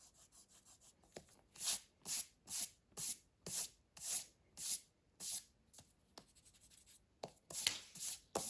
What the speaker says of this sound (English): next we're gonna go ahead and erase all of our pencil lines